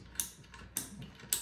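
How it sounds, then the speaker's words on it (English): Belt tightener on a Falcon laser rotary roller being turned, giving three sharp close ratcheting clicks with short mechanical rattles between, quiet and alone. "And you have this here that you use to tighten the belt on this one."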